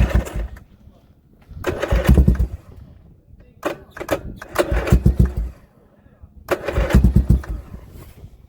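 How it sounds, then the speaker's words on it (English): A vintage Honda ATC 90 three-wheeler is kick-started, with three bursts of cranking and sputtering engine noise separated by pauses, heard close and loud with voices talking in between. "he is pushing the kicker down to engage the decomp system"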